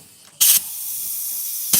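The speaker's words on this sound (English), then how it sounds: "it sounds like the airbag is leaking." Sharp bursts of compressed air hiss from a leaking airbag fitting on a 1937 Zephyr custom car in a shop: a short loud spray, a steadier hiss after it, then another burst at the end.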